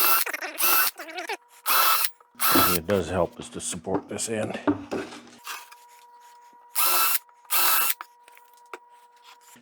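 Wood being gang drilled with a power drill, several short whirring drill bursts in rhythm, with someone talking in the middle.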